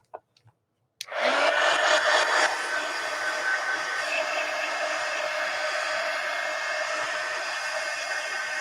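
A hair dryer dries a glued mixed media napkin journal page: after a few faint taps it switches on abruptly and runs as a loud, steady, close whir for several seconds.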